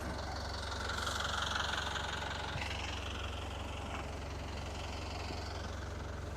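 A boat engine idling just after a cold start, a steady low rumble and even mechanical hum that hold throughout at moderate, fairly distant level, with no talking.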